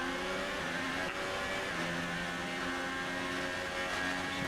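An F1 race car engine at high speed in F1 2018, a steady high-pitched whine holding a sustained tone, rising slightly toward the end, with no talking.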